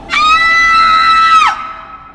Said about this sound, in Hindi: रानी जोर से चीखी।